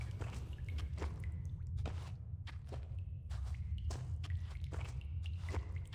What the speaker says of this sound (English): Only the sounds of dripping water and soft footsteps can be heard in the tunnel